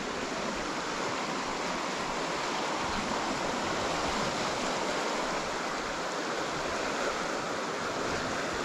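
Flooded river that has burst its banks, with a dense, unbroken roar of rushing water, loud and close and steady throughout, with no voices.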